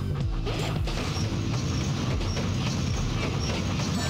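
A train rushes through a stage of the Sonic Adventure 2 video game, with loud continuous rail rumble, clattering wheels and crashing impacts, dense and close.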